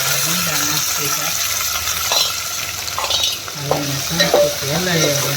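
Chillies frying in hot oil hiss and sizzle in a steady, close crackle, with stirring scrapes and a voice talking over the cooking.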